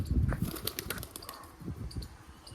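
A pigeon flies in with a quick burst of flapping wings close by, its wingbeats fluttering through a short, busy stretch with no talk.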